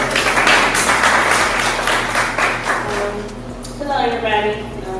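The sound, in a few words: audience applause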